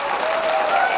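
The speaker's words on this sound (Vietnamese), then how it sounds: "chúng ta giờ một tràng vỗ tay cho ảo thuật gia Công Chí" A live comedy-show audience claps for a magician in a short, dense burst of many hands, steady and fairly loud, with a faint tone sounding behind it.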